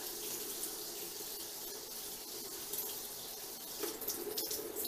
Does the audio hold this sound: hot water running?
yes